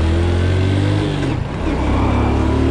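A Honda Wave 110 S motorcycle engine brakes under way, its loud droning engine note holding steady, dipping briefly as the revs change, then carrying on close to the microphone.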